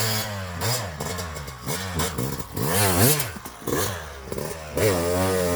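Two-stroke dirt bike, a Yamaha YZ250X or KTM TPI, revving loud and close through repeated rising and falling throttle blips in low gear, with a crackling, ringing exhaust note.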